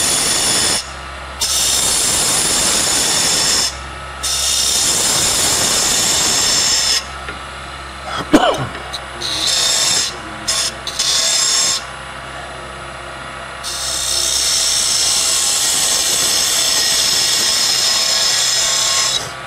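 A wood lathe trues up a box blank, the tool cutting in loud, sustained bursts of rough scraping and hissing that start and stop several times over a steady motor hum, with a sharp knock midway.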